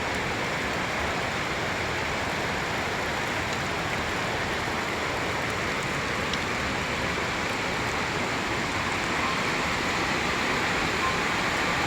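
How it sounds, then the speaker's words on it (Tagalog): Heavy rain pours down during flooding in a constant, dense hiss, steady and unbroken throughout with no voices. "Delikado to pag tumagal pa yung ulan."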